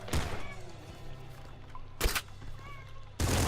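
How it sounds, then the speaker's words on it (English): A pet cat meows in the background behind video game sounds from Nuclear Throne. The faint wavering cries come in two short bursts between loud, punchy shotgun blasts. "that's my cat in the background"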